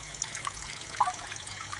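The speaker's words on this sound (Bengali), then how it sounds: "তো দেখেন পানির সাউন্ড কিন্তু পানির সাউন্ডের জায়গায় আছে।" Synthetic water sound effect made by a text-to-audio generator, a faint soft trickle with a few light drips scattered over a quiet background.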